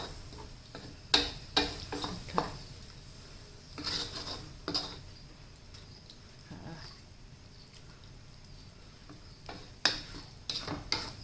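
Pork panang curry thinned with coconut milk is stirred in a pan, with spoon scrapes and clinks in uneven bursts over a low simmering sizzle, close and moderately loud.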